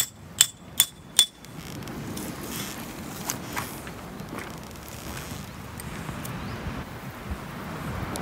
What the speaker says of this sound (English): using my chisel to break it along the edge of the ammonite